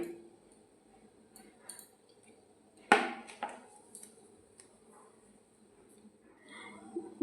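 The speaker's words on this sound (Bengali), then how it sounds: "এটা রসুন বাটছি, এখন বেটে নেবো অল্প অল্প করে নিয়ে" Garlic being ground by hand on a stone slab gives quiet, scattered knocks and scrapes, with one sharper strike and a few softer taps over a low background.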